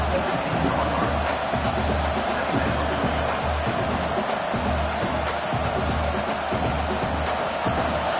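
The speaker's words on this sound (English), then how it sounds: "This crowd rising up, sensing that its defense needs some help." A stadium crowd roars in a college football video game, LSU Tigers against Clemson Tigers, a dense, steady wash of cheering and noise that holds at a loud level throughout, with an announcer's voice mixed in.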